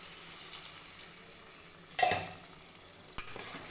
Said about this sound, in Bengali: আর 2 চামচ মতো জিরের গুঁড়ো দিয়ে হালকা একটু নাড়াচাড়া করে নেব।